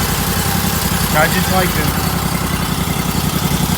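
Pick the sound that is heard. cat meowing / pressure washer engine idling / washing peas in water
pressure washer engine idling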